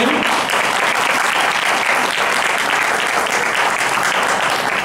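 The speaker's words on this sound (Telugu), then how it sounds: "ఒక్కసారి చప్పట్లు కొట్టడం మీరు" An audience at a Seetha Rama Kalyanam celebration breaks into loud, dense applause, a continuous close wall of clapping that holds steady for the whole stretch.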